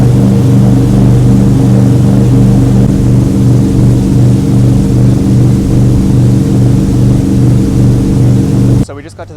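A motorboat engine idles on a river as a loud, steady, throbbing drone that runs almost the whole time before dropping away at the end. The engine noise fills everything up close.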